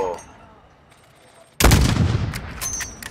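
A single loud, close gunshot blast from Call of Duty: Modern Warfare gameplay rings out abruptly after a quiet stretch, followed by a long rumbling decay.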